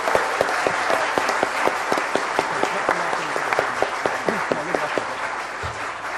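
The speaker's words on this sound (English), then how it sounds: "Big round of applause" Audience at a PyCon UK kids' lightning talks session breaking into applause: a crowd's clapping with several sharp, distinct nearby claps standing out over the wash, tapering slightly at the end.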